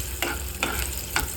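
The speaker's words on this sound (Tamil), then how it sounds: "நல்லா வதக்கிக்கணும்." Onions sizzle and fry in a pan, with three brief stirring scrapes spaced about half a second apart.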